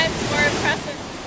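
Floodwater from a swollen creek in Lefthand Canyon, Boulder, Colorado, rushes past as a steady, close, broadband roar that swells slightly midway, with faint voices under it.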